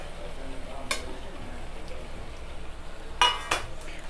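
Boiled pasta is stirred into gravy in a pan, with a soft sizzle underneath and a few sharp clinks of a spoon against the pan, close and moderately loud, no voices.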